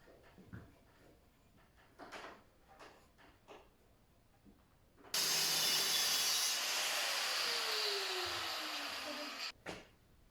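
A saw cuts off a threaded length of pipe for a homemade injection molding machine barrel: a few soft knocks and handling sounds, then a loud, continuous rasping cut lasting several seconds that stops abruptly.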